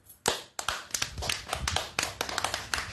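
A small audience at a religious lecture clapping after a call for applause, a quiet, loose patter of hand claps with uneven bursts rather than a full ovation.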